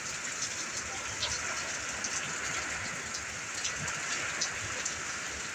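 Heavy rain pours steadily in a dense, continuous hiss, with a faint low rumble of distant thunder underneath.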